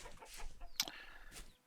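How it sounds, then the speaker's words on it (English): Chickens and a rooster cluck in the Vintage Story video game, with soft, close clucks and one sharper squawk in the middle over a quiet outdoor ambience. "Chickens aren't particularly fast. There's a rooster here."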